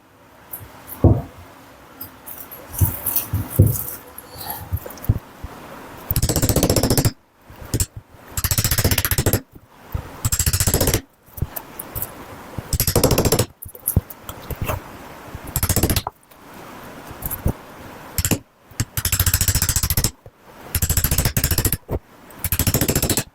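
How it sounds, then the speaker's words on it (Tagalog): Repeated sharp metal-on-metal hammer blows on an electric motor's core while removing burnt winding, close and loud, coming in rapid bursts separated by short pauses, with quieter tapping early on. "Pag palo pala dito sa pagpukpok gamit ang ating martilyo"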